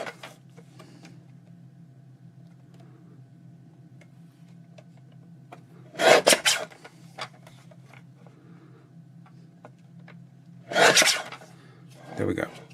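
Paper pieces trimmed for a journal cover, with two short bursts of cutting or rasping around the middle and end of a quiet room, plus faint small ticks in between.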